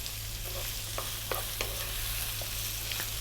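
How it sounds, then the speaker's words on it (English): Thinly sliced carrots and cauliflower hit a hot wok with a continuous loud sizzle, while a spatula stirs and clinks against the metal in scattered taps. "Now we're going to drop in some of our hard vegetables."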